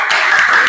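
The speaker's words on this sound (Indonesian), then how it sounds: "kita beri tepuk tangan untuk kelompok 1." A classroom of students claps for a group that has just finished presenting math work, producing a dense, steady wash of applause, close and loud, with no talking over it.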